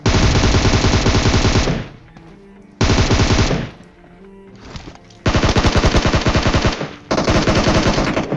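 Automatic gunfire crackles in PUBG Mobile, long dense loud bursts of rapid shots with brief quieter pauses between them.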